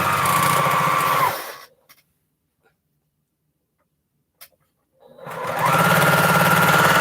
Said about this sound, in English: And sewing. Oh my gosh. Sewing.